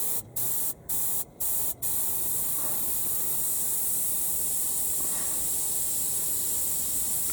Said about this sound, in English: we'll just show you some of the fine work we can get with this airbrush